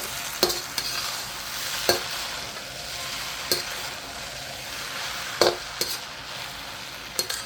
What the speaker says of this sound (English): Keep on folding everything in, mixing it well.